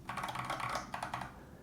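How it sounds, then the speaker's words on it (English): Rapid keystrokes on an Epomaker TH80-X mechanical keyboard, a quick close-up burst of clacky, slightly hollow clicks with no voices. "The typing sounds slightly hollow to me, relatively speaking, compared to other mechanical keyboards I have tested."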